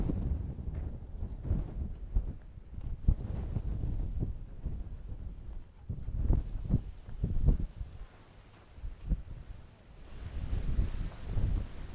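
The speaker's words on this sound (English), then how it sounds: "So windy there." Strong gusts buffet the microphone on an exposed mountain trail near Sky Top Tower at Mohonk, New York, rising and falling in uneven rumbling bursts, loud and close with no voices.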